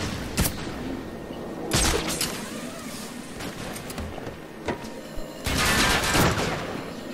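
Sniper gunfire from the Batman: Arkham City video game, a few sharp cracks spaced several seconds apart, with a longer burst of loud shots near the end over a busy game soundscape.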